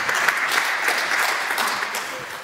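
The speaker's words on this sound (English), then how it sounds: "So please, one round of applause for Veiko and Andrea." Steady applause from an audience in a room welcoming two presenters, a dense, even wash of many hands clapping at close range, holding level before tapering slightly at the end.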